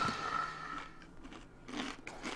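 Doritos chips are crunched in a few quick, faint bites, with soft crackly chewing noises close by and no talk.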